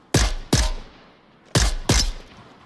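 Four sharp gunshots crack out in a VR shooter game, spaced in two quick pairs, loud and close with short decaying tails.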